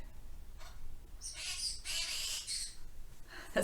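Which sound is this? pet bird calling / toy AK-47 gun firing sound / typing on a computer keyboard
pet bird calling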